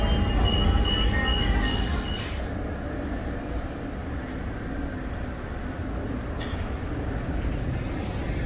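A metro train in Rome rumbles loudly and continuously, with a brief high squeal early on, heard from close by on the platform or aboard.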